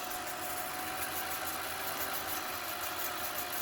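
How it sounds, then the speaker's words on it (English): A film rewind mechanism winds film back onto a spool on a workbench, giving a steady, even mechanical whir with a faint rhythmic flutter. It stays constant throughout, with no speech. "So I'm testing out the rewind function here."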